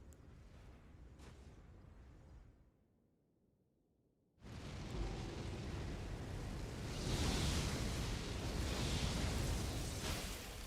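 A roaring explosion from the boss Midra in Elden Ring; after a brief lull, a loud, broad rumbling blast surges in and sustains for several seconds.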